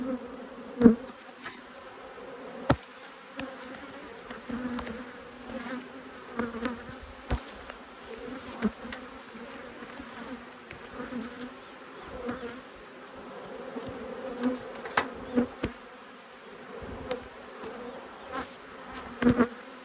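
Agitated honey bees buzz steadily around an open hive during an inspection, with a low droning hum and occasional louder individual buzzes passing close by, with no voices.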